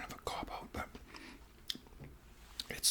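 Crunchy nachos are chewed close to the mic in a series of crisp bites and crackles, mixed with soft mouth clicks and faint whispering.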